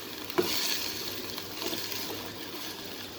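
Capsicum frying in hot oil with tempering spices, a soft continuous sizzle with a brief clink of stirring near the start, fairly quiet and close.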